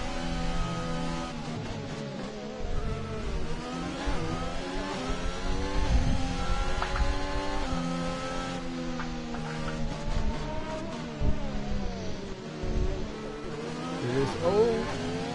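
Formula 1 cars racing at Imola in the video game F1 2021, engines revving and shifting steadily throughout under a commentator's continuous talk.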